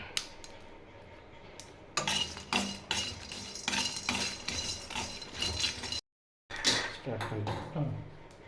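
Star anise and cinnamon sticks being dry-roasted in a pan, with scraping and clinking of a utensil against metal in irregular bursts, fairly close, with a brief gap partway through.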